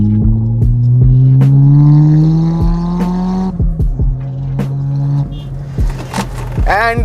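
A turbocharged ninth-generation Toyota Corolla Altis engine revs loudly and close, its pitch climbing then dropping through gear changes, with sharp mechanical clicks and a whooshing burst near the end.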